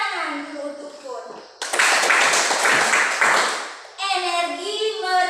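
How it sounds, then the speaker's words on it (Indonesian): A school class claps together during a lesson, a dense burst of hands lasting about two seconds in the middle, with someone speaking before and after it. "Tepuk tangan dulu untuk Bud."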